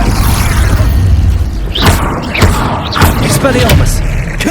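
The Expulso spell in Hogwarts Legacy bursts with loud, booming blasts and several sharp thuds and whooshes in quick succession, over dense continuous noise.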